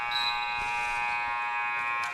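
Basketball buzzer at the end of a quarter in an AABA amateur league game, a steady, loud electronic tone sounding continuously for about two seconds.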